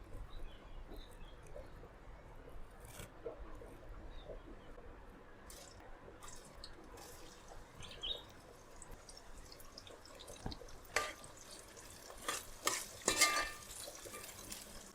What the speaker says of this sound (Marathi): तर आपण कांदा फ्राय करून घेऊयात गार्निशिंगसाठी.